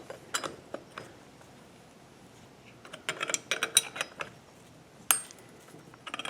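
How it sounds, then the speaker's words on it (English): Hand wrench tightening a bolt to press a pulley onto a pump, with close metallic clicks, ratcheting ticks and clanks in irregular bursts against a quiet background. "hold this one stationary, and then just start tightening against it"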